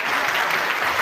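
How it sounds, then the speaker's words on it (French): A church congregation applauds a child during a Sunday service, a brief, loud, dense burst of many hands clapping together with no voices over it. "Bravo, applaudissez pour lui."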